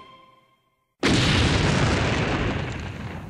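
An explosion sound effect erupts after a fading musical tone and a moment of silence, then continues as a loud, broad rumbling roar that slowly trails off.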